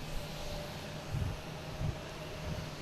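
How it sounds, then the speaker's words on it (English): A Delta airliner taxis out toward the runway at Boston Logan, its jet engines giving a steady, fairly distant low rumble with a faint whine and a few slightly louder low swells. "We have a Delta heading out to runway 9."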